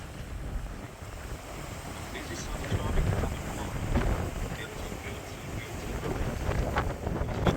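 A sightseeing ferry cruises through the Helsinki archipelago, a steady rumble of engine and water buried under strong gusty wind buffeting the microphone, with faint voices in the background.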